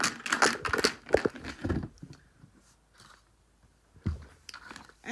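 Playing cards rattle and crunch inside a closed box as it is shaken in a few close, uneven bursts separated by short pauses.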